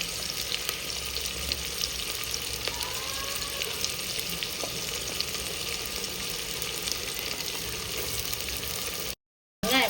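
Soft, steady sizzling of chopped onions frying in oil, crackling quietly throughout, with a few faint clinks before a brief drop to silence near the end.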